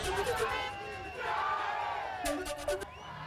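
Celebrating crowd in a Maharashtra street after India's T20 World Cup win, young people waving tricolour and saffron flags, shouting chants of Bharat Mata ki Jai and Jai Shri Ram; dense, continuous massed voices with rising cheers near the end.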